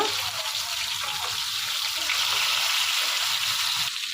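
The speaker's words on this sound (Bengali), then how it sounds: "মাছটা তো আমার ভাজা শেষ ওই পিঠ। তো এখন আমি আস্তে আস্তে করে একটু উল্টিয়ে দিব।" Fish frying in oil in a home kitchen pan, a steady close hiss and crackle of sizzling throughout, with no distinct flip sound standing out.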